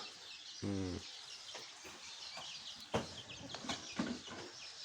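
Young chicks clucking in short, scattered calls as they come to eat fried rice, fairly close, with one longer call near the start over a steady outdoor background hiss.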